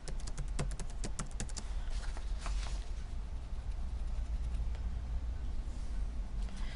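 Keys on a computer keyboard are tapped in a quick run of crisp clicks near the start, followed by a few scattered keystrokes over a steady background hum, with no talking.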